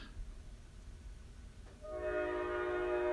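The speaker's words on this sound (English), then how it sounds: "You hear that train letting you know it's official? Like a whistle?" After a quiet, rumbling stretch, a train whistle sounds in the distance, a sustained multi-tone blast that holds to the end.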